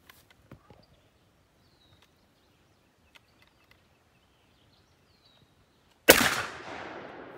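A Mossberg 835 shotgun loaded with buckshot fires one loud, sharp blast at an outdoor range, followed by a decaying echo after several seconds of near silence.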